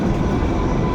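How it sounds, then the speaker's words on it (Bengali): The Kalka–Shimla toy train, a UNESCO heritage mountain railway, rumbles steadily as it rounds a bend at dawn, a loud continuous close-up roar of wheels and carriages. "আমাদের ট্রেনটা ঠিক এই সময় এরকম বাঁক নিচ্ছে"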